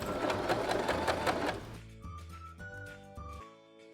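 A sewing machine stitches along the side seams of shirt fabric, running in a fast, steady rattle for about a second and a half, then easing into slower, lighter ticking bursts with a faint whine.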